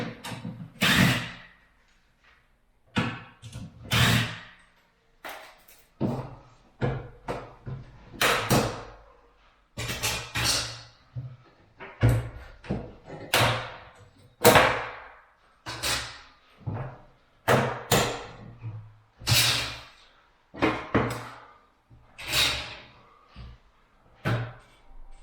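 Sliding cabinet doors and their tracks pulled out of a face frame, a long run of sharp knocks, clunks and rattles with short quiet gaps between, close and fairly loud.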